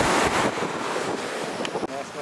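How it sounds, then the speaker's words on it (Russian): Wind roars against the microphone over a rough, stormy sea on the Gelendzhik coast in January, a continuous loud wash of surf and gusts. "Так что у нас сегодня бушует море."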